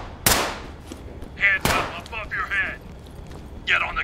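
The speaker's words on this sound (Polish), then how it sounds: "Z dachu strzelam." Two sharp, loud gunshots fired from a rooftop in a first-person shooter game, well separated, with brief muffled game noises and chirps between them.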